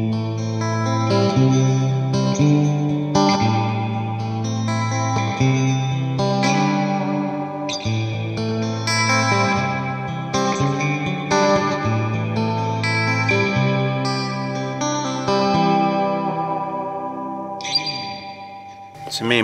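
An electric guitar through a Mosky spring reverb pedal plays a melodic line drenched in lush, echoing reverb, notes ringing and blending into a washy tail.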